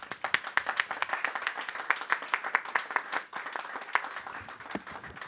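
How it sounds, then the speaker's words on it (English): Audience clapping at a conference on AI for manufacturing: a smaller group, where separate sharp claps stand out in an uneven, crisp rhythm that stays fairly quiet and close throughout. "So please join me in clapping Franco."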